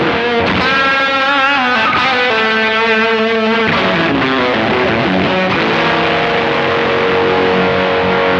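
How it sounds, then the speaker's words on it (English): Electric guitar played through a Ritual Devices Grimalkin fuzz pedal set for heavy fuzz, thick saturated chords and sustained notes ringing loud and continuous with no talking. "if you whack the fuzz all the way up and turn that claw down, you can get a heavy fuzz box"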